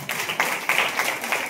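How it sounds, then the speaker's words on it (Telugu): A church congregation at a night fasting service claps together, a steady patter of hands with brief louder swells, moderately close and filling the short moment. "అందరూ కూడా ఒకసారి చప్పట్లు కొట్టండి."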